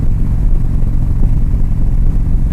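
A motorcycle engine running while ridden, its deep low rumble steady and close with slight throbbing pulses, and no voices.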